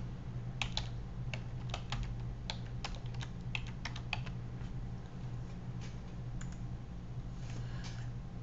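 A coupon code being typed on a computer keyboard, a run of faint, sharp key taps in an uneven rhythm over a steady low hum, tapering off into a few lighter clicks.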